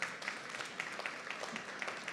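A modest audience at an education event claps, a faint, thin patter of scattered hands with individual claps standing out, heard from some distance.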